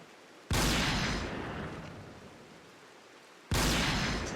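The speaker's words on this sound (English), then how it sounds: "Let's fire directly at this wall here and see how many shots it takes to actually take out the wall." Two loud gunshots in the video game RimWorld, fired at a wall, each a sharp blast with a long decaying rumble, about three seconds apart and heard alone.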